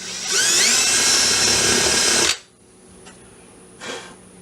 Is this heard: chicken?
no